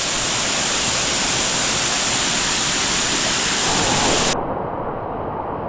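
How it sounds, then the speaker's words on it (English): A waterfall cascade in Aguinid Falls canyon, Cebu, makes a dense, close, steady roar of rushing water, and its bright hiss drops away abruptly near the end. "Ooh, cascade."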